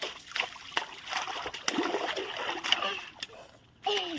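A child learning to swim for the first time splashes in water, with irregular close splashes and sloshing bursts and faint background voices.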